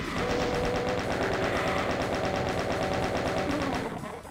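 Rapid automatic gunfire fired at a Cacodemon in Doom's E3M9 Lake of Fire level, a steady, loud, evenly spaced burst of shots that runs for several seconds before trailing off, with no voices.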